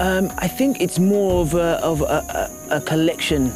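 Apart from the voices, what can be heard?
insects buzzing in Mabira rainforest, Uganda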